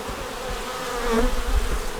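Honeybees buzz steadily at an open hive during an inspection, a dense, close, continuous hum with no voices.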